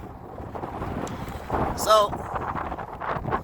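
Gusty wind buffets an outdoor microphone at a shooting range, a loud rumbling roar with swelling surges throughout, while someone speaks briefly over it.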